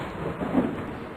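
An approaching rainstorm gives a short, low rumble of thunder over a steady wash of rain, swelling briefly in the middle before settling back.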